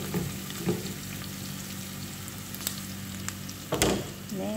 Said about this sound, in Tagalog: Lutuin ko muna itong aking bawang, sibuyas at sili.